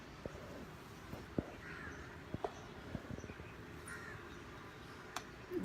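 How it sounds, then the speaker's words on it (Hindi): Crows cawing outdoors in hot daytime weather, scattered short calls at a moderate distance over a faint background hum. "वो कौवे चिड़िया उड़ रही हैं।"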